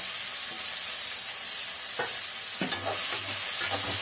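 Onions and tomatoes sauté in a pan for a prawn curry with capsicum, giving a steady crackling sizzle broken by a few sharp spatula scrapes near the end.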